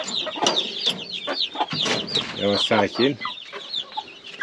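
Brahma chickens cluck and chatter close by in a busy coop, with a few louder squawks and someone speaking quietly underneath.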